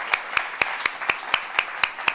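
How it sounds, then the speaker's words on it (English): Nine sharp, evenly spaced claps in a steady rhythm from an audience at a speech by Michelle Obama at a film screening, fairly close and moderately loud, with no voices. "we need to give Bonnie a round of applause for her work on this project."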